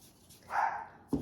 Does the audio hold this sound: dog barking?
yes